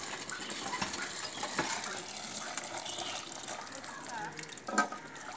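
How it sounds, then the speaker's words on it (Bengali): Cut taro pieces are washed by hand in water with soft sloshing and splashing. A couple of sharper clinks sound, probably pieces hitting a metal bowl, close and fairly quiet. "আমি এগুলোকে আমি জল দিয়ে এখন ধুয়ে নেব ভালো করে"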